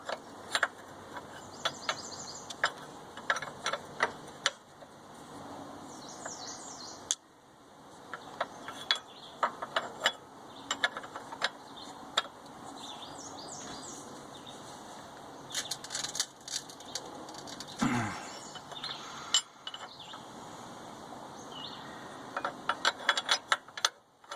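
Open-end wrench working a bolt on a Buick's suspension during control arm and tie rod work, with scattered metallic clicks, ratcheting taps and clanks, close, over a faint steady background hum.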